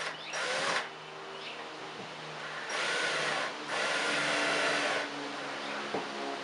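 A power drill driving screws whirs in two short bursts and then a longer run, each spin-up rising and cutting off, with quiet pauses between.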